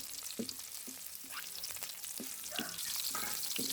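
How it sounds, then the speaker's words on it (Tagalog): Minced garlic sautéing in hot oil in a pan, a soft continuous sizzle with occasional sharp spatula scrapes and stirring taps, close and fairly quiet, with no talking. "nagpainit na ako ng kawali na may mantika para magisa na yung minced garlic"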